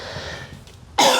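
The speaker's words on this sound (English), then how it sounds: "I have this lingering cough from a cold I got a few weeks back." One sharp, lingering cold cough bursts out near the end after a quiet stretch of room noise during a miniature poodle grooming.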